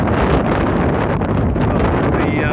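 Strong, steady wind from Storm Henk blusters and roars loudly across the microphone beside open water near a willow tree, a continuous buffeting rush without pause.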